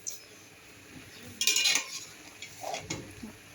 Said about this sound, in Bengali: ঢাকনা খুলে শাকগুলো উল্টিয়ে দেব।